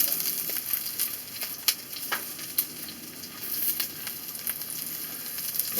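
Peppers sizzling in a hot pan, a steady soft frying hiss with scattered crackles and small pops, fairly quiet and continuous throughout.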